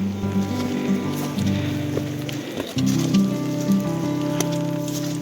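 Light rain falls steadily through the whole span, a soft continuous patter with a brief dip midway, mixed with low steady hum and tonal background sounds.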